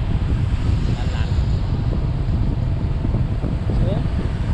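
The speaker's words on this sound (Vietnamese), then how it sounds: "gió riu riu nhẹ nhẹ, lạnh lạnh," A light, cool night wind along a seaside road buffets the microphone in a steady, loud rush with faint surf underneath, while a voice briefly talks over it.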